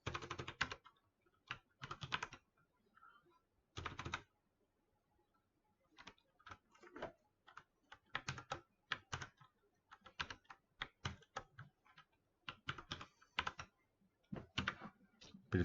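Quiet, close typing on a computer keyboard comes in irregular bursts of rapid key clicks separated by short pauses, with no talking.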